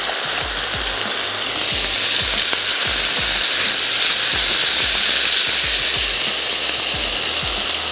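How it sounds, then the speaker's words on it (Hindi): Chicken coated in sauces sizzles loudly on a very hot grill pan, a dense continuous hiss and crackle with small pops, close and steady throughout, with no voices. "ग्रिल पैन हमारा ज़बरदस्त सा गर्म हो गया है, और अब मैं इसमें शामिल करने जा रही हूँ ये हमारी चिकन"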